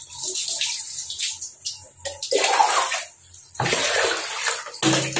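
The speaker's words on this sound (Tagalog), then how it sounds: "hahaluan po siya natin ng malamig para maging maligam-gam or maging warm water na lang po" Water being poured and mixed in a basin to warm it for bathing a six-week-old husky puppy, with splashing, gushing and sloshing in uneven bursts close up, without talk.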